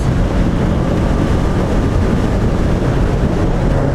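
Voge 500AC motorcycle at speed in fifth gear, a steady continuous engine drone mixed with heavy wind rush, loud and constant throughout with no talking.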